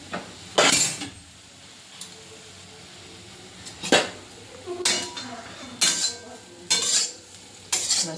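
Millet flatbread (rotlo) fried in a little oil and stirred, heard as a run of sharp spoon-on-pan scrapes and clinks at irregular intervals over a faint, steady sizzle, with no voices.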